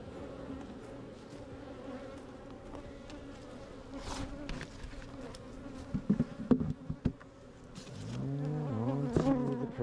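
Honeybees buzz steadily throughout a hive inspection, a close, continuous drone with brief handling knocks and a louder swell of buzzing near the end.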